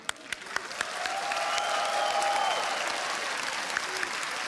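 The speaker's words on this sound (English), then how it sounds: "So a big round of applause please for Keed." Arena audience at the CS:GO ESL One Katowice 2015 quarterfinal breaks into loud, sustained applause and cheering, starting with a few scattered claps and swelling into a steady wash of crowd noise that holds to the end.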